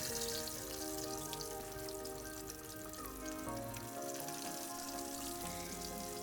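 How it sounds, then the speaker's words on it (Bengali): Chicken pieces for orange chicken being fried a second time over medium heat, a continuous dense crackling sizzle of hot oil, steady and fairly close, with no voices. "এরপর চিকেনগুলোকে আবারও একবার ভেজে নিচ্ছি"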